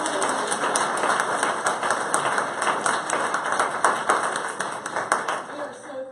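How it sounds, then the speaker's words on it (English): A large audience applauds at a political debate event, a dense, steady wash of many hands clapping that fills the whole stretch at close range, with a voice faintly underneath. "Can everybody give her a round of applause?"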